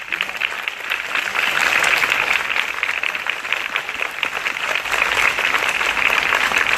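Sustained crowd applause at a school flag-raising ceremony in Yopougon, Côte d'Ivoire, welcoming a visiting delegation: dense, steady clapping from many people that carries on throughout, fairly close and loud.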